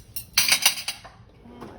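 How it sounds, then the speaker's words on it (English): Spoons and forks clink against dishes while a table is set for a taco meal, a quick cluster of bright metallic chinks followed by a couple of softer taps, close and alone. "We need 2 spoons for the lettuce, and 1 for the salsa. And then everybody needs a fork."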